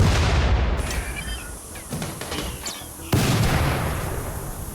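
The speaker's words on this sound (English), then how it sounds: "Keep firing on the turrets." Gunfire at turrets and a scyther in RimWorld comes as repeated sharp cracks and heavier booming shots, with one strong hit partway through, over a steady background.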